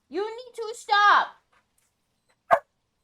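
A dog yips or barks once, a short loud burst near the end, following stretches of excited, high-pitched voices during a ghost-hunting game.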